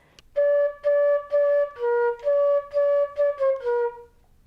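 A flute plays one measure as a run of about nine clean, separately tongued notes with a steady rhythm, close and clear, with no voices.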